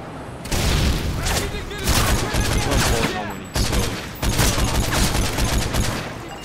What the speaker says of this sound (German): Ich glaube, ich hol mal einen Luftschlag.